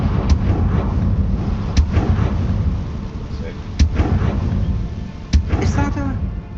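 Several sharp, booming blasts of the Confringo fire spell in Hogwarts Legacy land over continuous rumbling game ambience, with a spoken voice in between.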